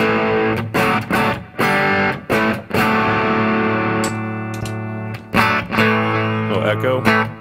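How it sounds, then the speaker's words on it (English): An electric guitar run through a P3 overdrive pedal rings out in gritty, saturated chords, struck in short repeated bursts with brief gaps between them, loud and close. "A little overdrive."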